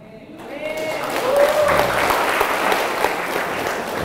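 An audience at an Islamic lecture breaks into applause, building quickly from scattered claps into a full, steady round of clapping that carries on to the end, with a brief voice heard at the start.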